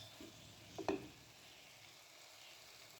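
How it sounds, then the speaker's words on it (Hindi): Vegetables for chicken fried rice fry in a pan with a faint, steady sizzle and a couple of soft clinks partway through. "अब मैं इसको करूँगी इसमें अच्छे से फ्राई।"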